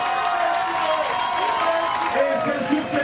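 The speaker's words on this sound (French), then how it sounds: "applaudissez pour vous." A crowd applauds and cheers at an outdoor street rally for Gabonese youth, a dense, steady wash of clapping mixed with voices throughout.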